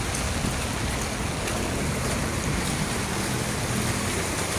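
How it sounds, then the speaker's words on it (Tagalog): Heavy rain pours steadily over a flooded street, a dense, unbroken hiss mixed with rushing water, loud and continuous with no voices. "Grabing ulan"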